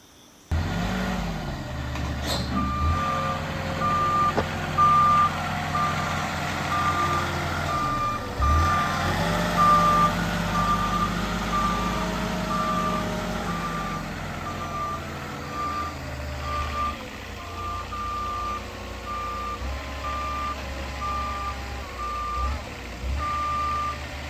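A delivery truck backs up, its reversing alarm beeping in a steady, evenly spaced series over a loud, continuous diesel engine rumble that rises and falls with throttle, close by, with no talking.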